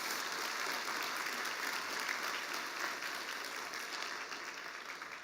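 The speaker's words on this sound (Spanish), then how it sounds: "Un aplauso para el Señor" Steady applause from a church congregation, a dense wash of clapping that holds for several seconds and tapers off slightly at the end.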